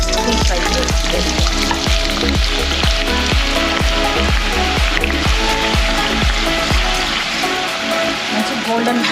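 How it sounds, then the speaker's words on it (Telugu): Thinly sliced onions deep frying in hot oil for a Hyderabadi mutton dum biryani, a steady loud sizzle with strong rhythmic low thumps and tonal music-like bands running throughout, no voice heard. "ఆయిల్ వేడెక్కాక సన్నగా తరిగిన ఉల్లిపాయలు డీప్ ఫ్రై వేసుకోవాలి"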